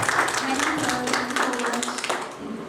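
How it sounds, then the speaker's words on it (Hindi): School annual function audience clapping for Sarita ma'am, a brief burst of scattered hand claps at moderate distance, fading out over a few seconds. "जोरदार तालियां सरिता मैम के लिए।"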